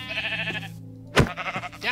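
Minecraft sheep bleating in the video game, a couple of short harmonic baas close up, with a sharp hit sound between them.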